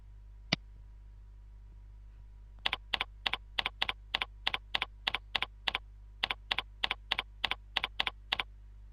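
Someone types an SMTP server name into the Eudora email program on a computer keyboard: one lone click, a pause, then a quick run of crisp, close keystrokes over a low steady hum.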